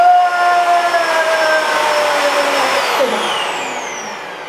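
A vacuum cleaner runs loudly and continuously with a steady whine, its tone shifting slightly and fading a little toward the end.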